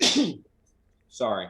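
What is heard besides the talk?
sneeze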